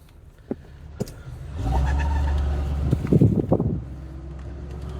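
1967 Ford Galaxie survivor car with 22,000 original miles, a few clicks and then its engine settling into a low, steady, close rumble with some brief rattling noise in the middle.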